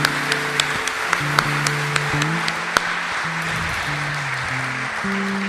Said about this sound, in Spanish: Ya podemos aplaudir al Señor por todo lo que hizo por nosotros.